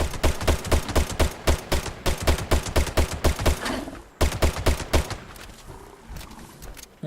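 Furious Crusader Pistol firing in Fallout 76, a steady run of loud, evenly spaced energy shots about four per second, pausing briefly midway then resuming, with a faint voice under the shots.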